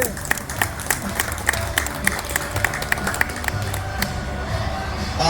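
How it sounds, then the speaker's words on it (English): A crowd at a PopStroke Tour golf event in Houston applauds, with lively, close clapping and distinct sharp individual claps over a murmur of voices. "a big round of applause for everybody"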